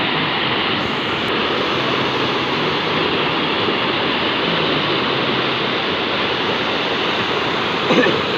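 A strong current pours through a village waterfall stream, giving a loud, constant rushing roar that stays even from start to end with no pauses.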